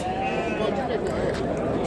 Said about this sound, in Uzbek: Bu tarafda ham qo'ylar bor. Hamma yoqda qo'ylar.